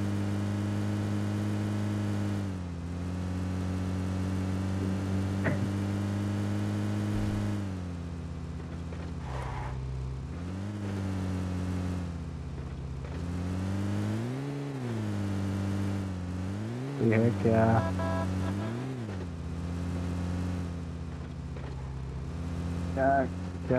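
Vehicle engine in the PUBG Mobile video game, a steady tonal hum that rises and falls as it revs and shifts, continuous throughout with occasional voices over it.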